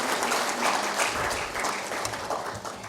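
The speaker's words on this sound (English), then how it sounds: "I'll also request you to give a clapping ovation to Mr. K.B. Kachru, President, Hotel Associa" Sustained audience applause fills a summit hall of the hospitality industry, dense steady clapping from many hands at even loudness throughout with no voices over it.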